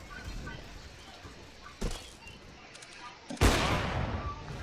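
Two sharp, loud shots from a sniper rifle in the video game CS:GO ring out several seconds apart, each decaying into background game noise. The first crack is followed later by a louder, longer blast.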